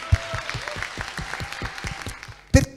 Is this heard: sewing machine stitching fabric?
no